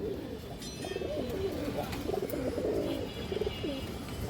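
Fancy domestic pigeons coo in soft, repeated, rolling phrases from close by, one call following another over a faint background.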